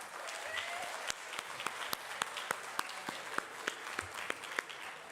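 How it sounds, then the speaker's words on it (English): A school orchestra concert audience gives a round of applause, fairly soft overall, with individual sharp claps standing out in an irregular patter against the crowd's steady clapping. "Let's give a big round of applause for that"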